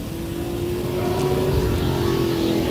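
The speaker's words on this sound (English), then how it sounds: "I'm revving up the beast." A car engine revs with a steady, sustained drone that rises slightly in strength, loud and close, with no speech over it.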